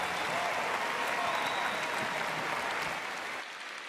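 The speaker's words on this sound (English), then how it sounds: "Encore une fois, nos applaudissements pour son Excellence le vice-président du Kenya" Audience applause for Kenya's vice-president at a Youth Connect Africa event: dense, steady clapping from a large crowd that holds throughout and thins slightly near the end.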